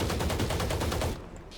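Rapid automatic gunfire in Valorant shooting through a box, a dense burst of repeated loud shots lasting about a second, then abruptly cut off into quiet.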